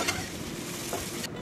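Egg and mixed vegetables stir-fry in a pan for noodles, a close, steady sizzle with scraping stir strokes over a brief moment, no voices.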